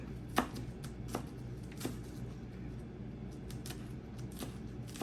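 Green onion is chopped with a knife on a cutting board, a handful of sharp, spaced knife strikes over a low background hum, with no talking.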